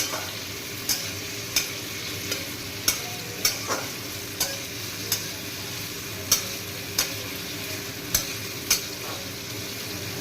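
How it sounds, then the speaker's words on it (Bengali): Potatoes fry in a pan over a medium flame, a constant soft sizzle with sharp taps of a spatula at fairly regular intervals. "আলুগুলো বেশ সুন্দর করে ফ্রাই করে নিতে হবে।"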